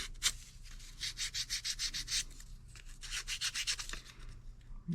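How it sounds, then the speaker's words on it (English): Sandpaper rubbed back and forth over a small wooden model airplane fuselage part in quick, rhythmic close-up strokes, soft and scratchy over a faint low hum. "So since that was a little rough, I'm going to use the sandpaper"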